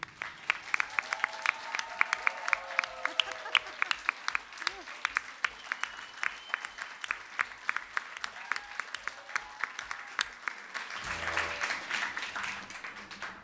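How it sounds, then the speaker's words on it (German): An audience at a local rock concert applauds, with dense rapid clapping that is sustained throughout and swells near the end, and a voice is faintly heard over it. "Wir könnten für Sie einen mächtigen Applaus kurz anstimmen."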